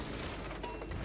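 Warship guns firing in the naval combat game World of Warships, producing a dense, rumbling burst of overlapping booms that fills the whole moment at moderate loudness.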